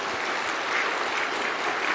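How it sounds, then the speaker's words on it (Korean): A church congregation at a Sunday sermon claps together in a steady, even burst of applause, many hands at once, filling the room at a constant level throughout. "박수 좀 해드려요, 박수."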